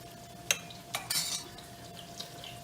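A spoon stirs risotto rice in a pot, making a few soft scrapes and light metallic clinks against the pan, quiet and close, with no voices.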